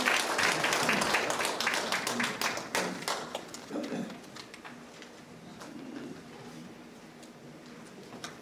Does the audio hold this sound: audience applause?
yes